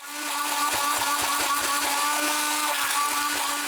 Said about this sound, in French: on va mettre un petit coup de mixeur plongeant à l'intérieur